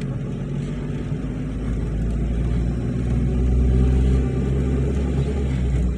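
A car drives home from a shopping mall, heard from inside as a steady road rumble and engine hum that swells briefly midway, with no voices.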